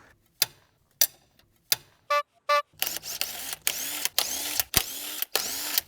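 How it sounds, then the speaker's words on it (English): A 19mm socket on a breaker bar works the lug nuts of a C6 Corvette Z06, giving sharp isolated clicks followed by a run of rhythmic ratcheting strokes, close and fairly loud with no talking. "We're gonna go ahead and break these lug nuts loose."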